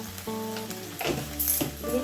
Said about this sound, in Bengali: তেল গরম হয়ে গেছে। এখন আমি দিয়ে দিচ্ছি কাঁঠালের বীজ।